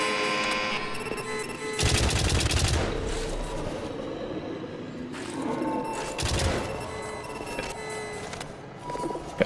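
Turret gunfire in the video game White Knuckle, heard as loud rapid bursts of automatic fire in two main volleys, close and harsh, with ringing electronic game tones around them and no talk.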